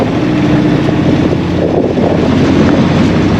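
Boat motoring through rough sea, its steady engine roar buried under heavy wind buffeting the microphone and the constant rush of water, loud and unbroken throughout.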